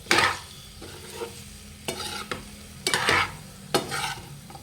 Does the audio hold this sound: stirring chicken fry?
yes